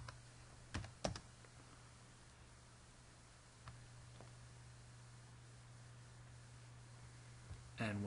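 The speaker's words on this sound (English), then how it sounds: "type in your username" Faint computer keyboard typing of a username, a few sharp keystrokes scattered over a steady background hum and hiss, with a louder clack at the end.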